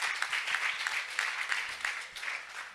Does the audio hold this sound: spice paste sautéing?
no